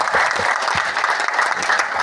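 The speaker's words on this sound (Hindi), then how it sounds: "तो इस बार एक बार जोरदार तालियां थंडर ब्लास्ट के लिए।" Loud, dense applause from a large audience at a business marketing seminar, steady claps filling the short moment with a few faint voices mixed in.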